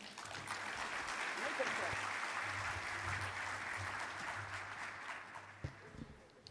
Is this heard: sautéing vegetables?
no